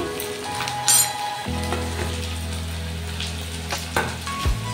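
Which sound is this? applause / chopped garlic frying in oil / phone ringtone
chopped garlic frying in oil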